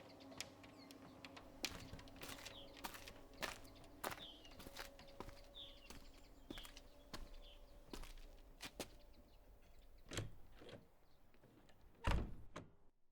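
A front door opens and footsteps come into a quiet house, with a series of soft thuds and clicks spread through the passage and a louder knock or bump near the end, no talking.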